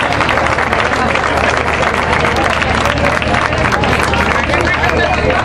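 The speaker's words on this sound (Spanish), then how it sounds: "un aplauso muy fuerte para que estén contentos" A festival crowd gives dense, sustained, loud clapping at the coronation of the royal couples at the Turre Viejo fiesta in 2011, with no pauses.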